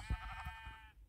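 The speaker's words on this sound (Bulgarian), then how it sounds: "Мисля първо да убиеме тази овца преди да е избягала." A sheep bleats in a video game: one short, nasal, wavering bleat, close and fairly clear, with nothing else over it.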